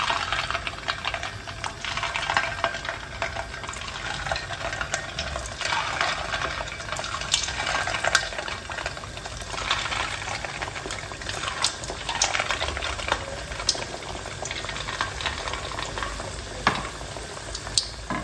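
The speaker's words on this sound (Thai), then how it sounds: "น้ำมันเริ่มร้อนค่ะ เราก็เอาลงไปทอดได้เลยค่ะ" Featherback fish cakes deep-fry in hot oil over medium heat, a dense continuous bubbling sizzle close up with scattered crackles and pops, no voices.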